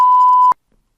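A single loud, steady tone beeps for about half a second and cuts off abruptly, followed by silence.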